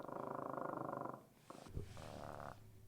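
A man imitates a cat's purr with his throat, vibrating it against the uvula to make a low rattling rumble for about a second, then some softer throaty vocal rumbling follows.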